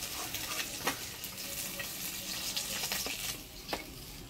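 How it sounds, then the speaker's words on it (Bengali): Fish fries in hot oil in a home kitchen with a steady, close crackling sizzle and occasional sharper pops and stirring scrapes, and no talk over it. "এবার মাছগুলা ভাজি নেব। মাছটা ভাজি নিলাম"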